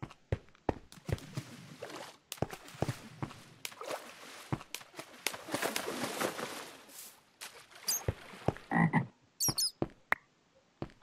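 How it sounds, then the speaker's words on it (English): Repeated croaking from cave frogs in a modded Minecraft survival game, a steady run of close, fairly loud croaks with occasional footstep-like taps and a few sharp high chirps near the end. "I don't know what to think of those frog sounds"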